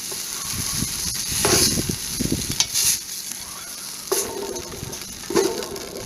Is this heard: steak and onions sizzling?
yes